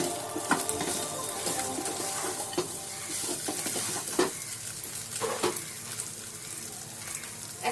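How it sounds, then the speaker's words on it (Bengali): Chicken with cubed onions frying in a pan while being stirred, a steady sizzle with repeated scraping knocks of the utensil against the pan, close and without talk. "পেঁয়াজটা দেওয়ার পর আমি আবার নেড়ে চেড়ে দিচ্ছি।"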